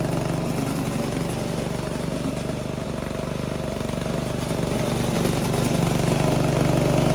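VTLM600 brushless remote-controlled mower engine cranked up and running, a close, steady buzzing drone that stays even and unbroken throughout.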